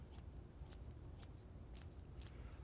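Scissors snip through hair during a haircut with quick, crisp closing clicks in a steady rhythm, about five close cuts, over a faint background hiss.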